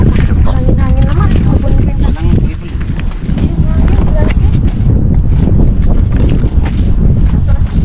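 Loud, constant wind buffeting the microphone outdoors at Red Rock Canyon, a steady roar that nearly drowns out faint voices in the background.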